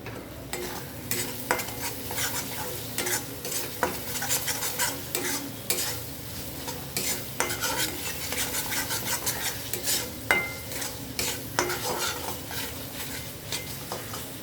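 A spatula stirs and scrapes fish masala with cumin powder and salt as it fries in oil in a pan for doi katla, with steady sizzling and frequent metallic clinks and scrapes close up, no voices.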